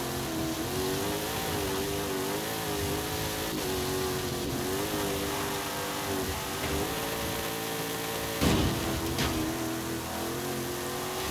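An off-road car's engine revs and accelerates in Forza Horizon 5, a loud, continuous rising and falling drone with a brief burst near the end and no talk.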